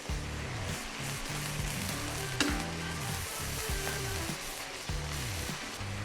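Beef sizzles steadily in a hot pan with oyster sauce and sweet soy sauce for black pepper beef, with occasional scraping stirs and a sharp clink near the middle.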